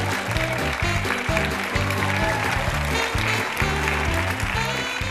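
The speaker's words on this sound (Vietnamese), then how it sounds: "mời quý vị hãy dành một tràng pháo tay để cùng gặp gỡ với cặp vợ chồng đầu tiên" Audience applause at a television dating show as a couple comes on stage, steady clapping under loud background music with a strong rhythmic bass beat.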